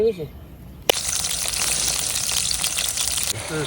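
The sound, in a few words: duck meat frying in oil with onion, ginger, cumin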